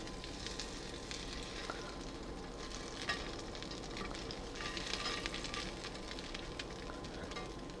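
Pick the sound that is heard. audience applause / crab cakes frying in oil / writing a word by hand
crab cakes frying in oil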